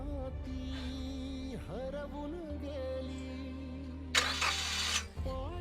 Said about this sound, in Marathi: हान बरं स्टार्टर